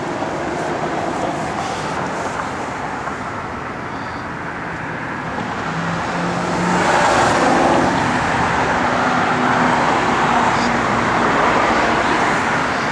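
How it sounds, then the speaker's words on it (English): A 1967 Chevrolet Camaro RS/SS convertible with a 350 cubic inch V8, stock four-barrel carburetor and headers is driven past. Its steady engine and road rumble grow louder and closer partway through. "Car runs and drives excellent too"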